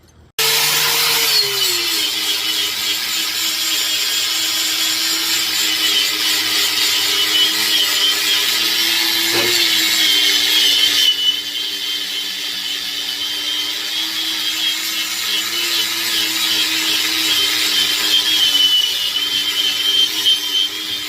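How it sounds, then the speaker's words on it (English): Angle grinder fitted with a flat disc stripping paint from a steel axe head, a steady loud high-pitched whine with a harsh abrasive hiss that holds continuously for about twenty seconds, pitch dipping slightly under load. "I'm going to use a flat disc on an angle grinder here."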